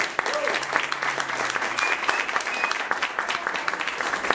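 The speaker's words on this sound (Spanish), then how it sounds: "Un aplauso para estos músicos, por favor" An audience at a jam session in La Bóveda del Albergue in Zaragoza applauds the musicians with steady, dense clapping that holds at an even level from start to finish.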